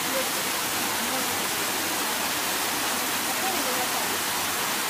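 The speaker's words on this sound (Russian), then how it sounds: "Вот такой поток." Torrent of rainstorm floodwater rushing down from the mountains into Gurzuf, Crimea, a steady, dense broadband roar of flowing water that holds unchanged throughout, loud and close, with no voices.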